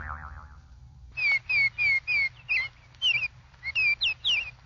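Baltimore Oriole song on an old-time radio show, a run of about ten clear whistled chirps in a quick steady rhythm following a brief low sound, fairly loud and close.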